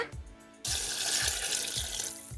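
Water pours steadily into a pot for mutton biryani, a broad rushing splash that starts abruptly and continues loudly, with a faint rhythmic thumping beneath.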